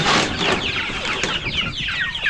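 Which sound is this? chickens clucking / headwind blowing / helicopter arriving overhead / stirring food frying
chickens clucking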